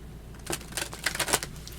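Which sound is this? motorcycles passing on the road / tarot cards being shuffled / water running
tarot cards being shuffled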